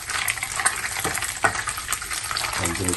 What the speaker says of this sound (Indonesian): goreng daun betik